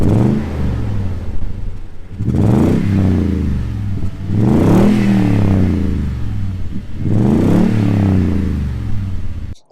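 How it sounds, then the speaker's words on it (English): A Toyota Tundra V8 truck with a TRD catback exhaust revs repeatedly, four loud deep roaring bursts rising and falling with a throaty rumble between them, close by. "The TRD catback exhaust, it just roared to life."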